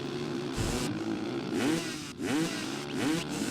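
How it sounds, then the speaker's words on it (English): A looped recording of four-wheeler ATV exhaust in the PS2 game ATV Offroad Fury 2 buzzes and revs in repeated bursts, rising and falling in pitch with a raspy exhaust tone. "they just straight up recorded exhaust sounds of four-wheelers and like they basically play on a loop"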